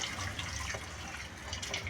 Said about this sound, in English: There goes my hot water.